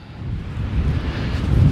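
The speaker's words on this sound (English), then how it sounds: "A little windy today." Steady wind buffeting a microphone outdoors by a low-tide pool, a low rumbling roar that swells slightly toward the end, with no voices.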